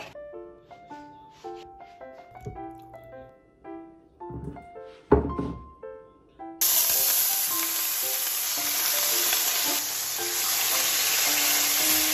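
A little cooking oil hits a hot frying pan and breaks into a loud, steady sizzle, preceded by several soft clinks and knocks of utensils and cookware.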